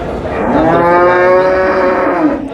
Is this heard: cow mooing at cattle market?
yes